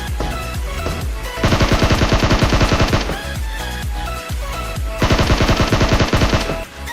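A SCAR-L rifle with a 3x scope fires in PUBG, two rapid automatic bursts of sharp, evenly spaced shots over steady game background sound, loud and close.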